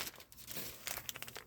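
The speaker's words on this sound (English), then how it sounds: "comes in a nice zipper type plastic bag." Shorts are pulled from a plastic zipper bag, which gives a quiet, close crinkling and rustling in short irregular bursts, with no talking.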